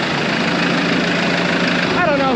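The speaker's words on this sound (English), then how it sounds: "Dad's gonna pull the combine down right in front of the shop" A combine harvester's engine idles with a steady, constant low rumble and hum close by, unchanging in level across the short stretch.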